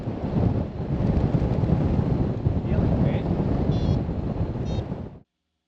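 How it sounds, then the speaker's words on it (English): Strong wind rushes past a hang glider in flight, a loud, steady buffeting roar that lasts about five seconds and then cuts off abruptly. "There's the wind."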